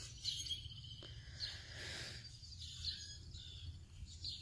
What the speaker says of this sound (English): You hear all the birds back here.